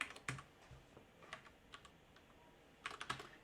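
Typing on a computer keyboard while coding: scattered quiet key clicks in small bursts, with a pause in the middle, alone and close.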